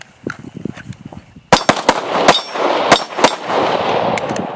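Sharp handgun shots crack during a defensive shooting drill with side steps, several loud, separate reports spaced unevenly, following quieter shuffling and movement, with ringing echoes behind them.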